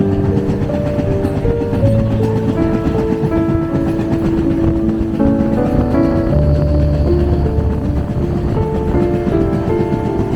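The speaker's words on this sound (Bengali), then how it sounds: "আমাদের ট্রেন এখন ঢুকছে নিউ মাল জাংশন।" A train rolls past tea gardens toward New Mal Junction with a loud, steady rumble, faint rhythmic clatter, and sustained whining tones from the wheels and engine.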